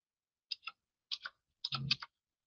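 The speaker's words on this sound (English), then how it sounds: "if I keep typing in bad numbers" Numbers being typed on a computer keyboard, heard as three short clusters of crisp keystroke clicks separated by brief pauses, close and fairly quiet, with no voices.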